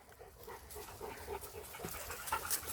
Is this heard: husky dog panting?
yes